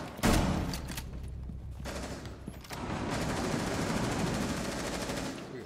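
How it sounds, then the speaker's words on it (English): Gunfire in the video game Rainbow Six Siege: a loud opening shot, then a brief quieter gap and a sustained stretch of rapid automatic fire that carries to the end. "Where are we getting shot from?"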